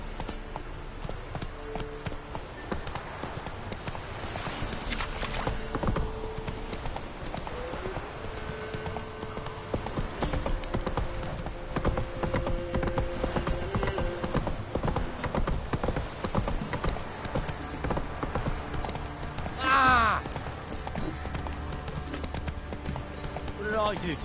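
Clip-clopping hooves of the horse Roach in a PS4 video game, a steady trotting rhythm running throughout under game dialogue and background music.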